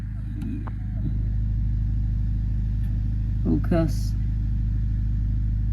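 The starter motor cranks the engine of a rusty 1972 VW Karmann Ghia with a steady, loud low drone that holds for several seconds without catching. A brief voice speaks over it.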